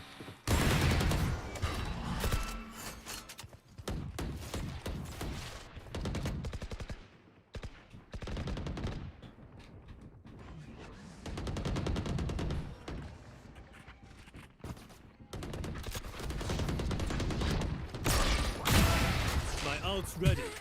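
Rapid video-game gunfire from Riftbound, bursts of automatic shots and fusillades coming in loud waves with brief lulls, mixed with game effects and a player talking over it.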